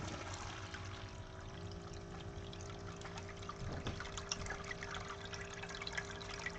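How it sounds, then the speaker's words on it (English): Water flows steadily through a gold sluice set up on a small river, a faint continuous trickling and pouring with a low hum underneath and no talk. "now we just got to get the water flowing"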